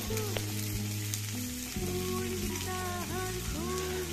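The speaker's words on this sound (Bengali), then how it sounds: "কালো জিরে আর রসুনের সুন্দর ফ্লেভার ছড়িয়ে গেলে দিয়ে দিচ্ছি 2টো মিডিয়াম সাইজের কুচনো পেঁয়াজ" Chopped onion and green chili frying in hot oil with nigella seeds and garlic, giving a dense, even sizzle throughout, with a steady tonal hum and warbling music underneath.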